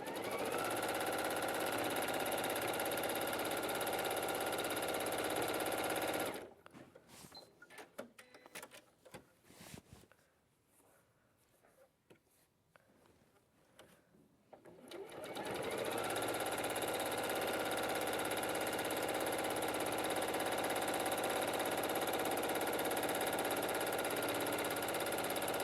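A sewing machine stitching a straight stitch, a steady dense mechanical whir that runs loud, breaks off into several seconds of near quiet with faint clicks, then starts up again and continues.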